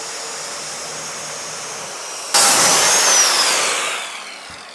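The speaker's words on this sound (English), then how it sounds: "We're gonna need to rip cut this sheet of plywood instead of cross cutting." A power saw rip cutting a sheet of plywood lengthwise, starting abruptly partway through as a loud, bright whine that holds steady and then gradually fades as the cut ends; no voices.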